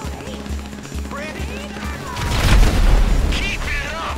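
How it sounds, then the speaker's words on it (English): A grenade blast in the video game GTA Online, a loud boom that swells midway and rolls into crackling debris and gunfire, with a voice talking over the first half. "Throwing a nade!"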